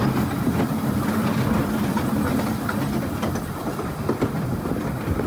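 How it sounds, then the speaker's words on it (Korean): An old, worn mini train rattles steadily along its rails in Wulai, Taiwan, a continuous close clatter with repeated clickety-clack knocks and a low rumble throughout, and no voices. "저는 처음에 이 미니 기차를 탔을 때에는 시설이 낡아 덜컹덜컹"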